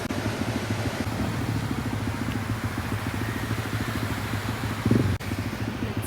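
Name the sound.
cafe racer motorbike engine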